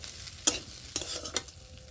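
Fried peanuts being stirred into sautéed potatoes for a samosa filling, with three sharp scraping clatters of the spoon over a soft, steady sizzle from the pan.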